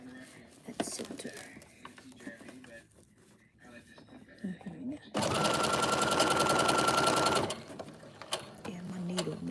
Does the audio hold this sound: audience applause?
no